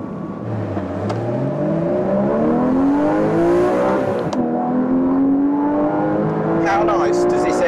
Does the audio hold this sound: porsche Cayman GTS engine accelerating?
yes